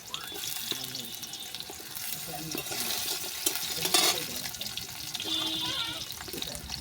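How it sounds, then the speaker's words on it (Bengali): Potatoes fry in hot oil for a chicken kosha recipe, a continuous, fairly quiet sizzle with occasional stirring clatter, and someone talks over it at times. "এটা গরম হয়ে গেছে, আমি আলুগুলো একটু ভেজে নেবো লাল লাল করে।"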